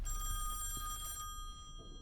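A telephone rings in the Song of Horror horror game, a close, steady bell tone that fills the first moments and then cuts off into quiet room ambience.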